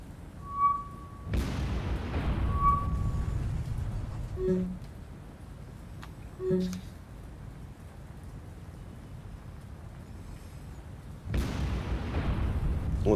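Ship explosions in the naval combat game War on the Sea give two heavy, booming blasts several seconds apart, with scattered smaller crackles and a low rumble like rain and distant thunder in between.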